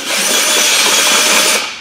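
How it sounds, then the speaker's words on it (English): Portable drill fitted with a chamfer tool deburring the cut end of a 4- or 6-inch compressed air pipe; one close, loud whirring grind with a bright rasping edge, holding steady before easing off at the end. "we have a chamfer tool that you put on a portable drill"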